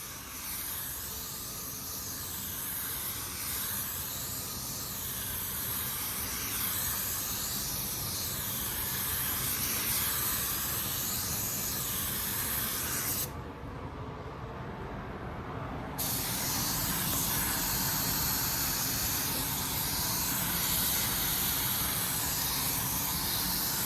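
A spray gun lays down automotive clear coat in a steady, loud, continuous hiss that runs almost unbroken for over twenty seconds, briefly dipping and changing tone partway through before resuming at full force.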